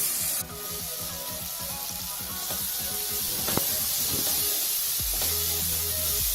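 Chopped tomatoes frying in a pan for a dhaba-style egg tadka give a steady close sizzle and hiss with scattered crackles and a few utensil knocks, no voices.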